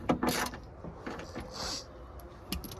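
Ratchet wrench tightening bolts on a rear passenger door lock latch, heard as short clicking bursts and mechanical rattles spread across a few seconds, fairly close and moderately quiet with no talk.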